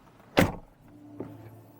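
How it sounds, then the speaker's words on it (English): Cabin entry sound effects of a Mercedes-EQ EQS 450+ electric car: a short loud whoosh-like burst near the start, then a softer brief tone a moment later, with no talk. "I love the sound effects in the EQS."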